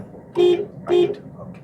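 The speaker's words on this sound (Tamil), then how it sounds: "முடிஞ்சால் ஒரு தடவை ஹார்ன் அடிச்சிருங்க" Two short, bright car horn honks sound close by during a driving lesson, evenly spaced, followed by a softer fainter tone.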